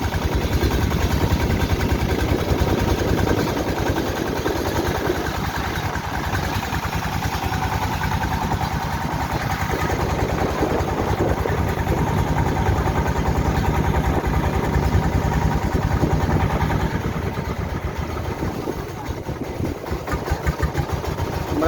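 A trawler boat's engine drones continuously on the Meghna river near Bhairab, a steady close chugging rumble that holds throttled back as the boat nears the landing, loud and unbroken for the whole stretch.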